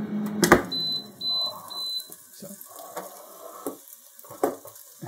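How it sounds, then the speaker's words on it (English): Buffalo chicken wings crackle and sizzle inside an air fryer, with irregular pops and hissing bursts up close and a few brief higher tones, no one speaking. "As you can see, they've already started cooking and they're sizzling."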